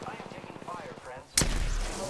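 Gunfire in the video game Apex Legends breaks out as a sudden loud burst of shots after a stretch of game voice lines, then continues as a dense, close volley to the end.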